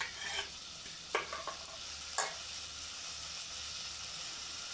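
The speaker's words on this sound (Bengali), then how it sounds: "দিয়ে ভালো করে একটু মিক্স করে দেব।" Small fish curry being stirred and mixed in a pan, three or four quick scraping strokes over a faint steady sizzle, close and fairly quiet, with no talking.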